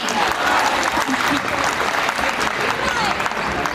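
Students at a fresher's party at DIET Sultanpur applaud loudly and continuously, a thick sustained clapping that fills the whole stretch.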